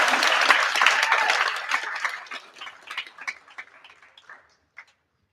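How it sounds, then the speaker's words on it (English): Audience applause at a high school humanities symposium, a loud burst of clapping that thins into scattered claps and fades out within a few seconds. "Let's give both groups a preliminary round of applause."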